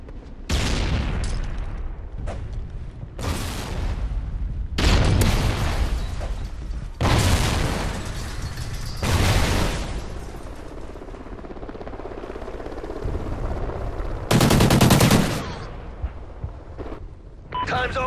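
Bursts of gunfire and a stun grenade blast in a tactical round-based shooter video game, loud repeated volleys and booms spread across the stretch, with players talking over the action.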